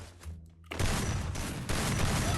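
Video game shooter gunfire bursts in rapid loud volleys after a brief quieter lead-in, continuous sustained shooting through to the end.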